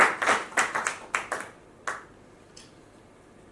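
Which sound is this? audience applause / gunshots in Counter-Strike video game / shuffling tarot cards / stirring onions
audience applause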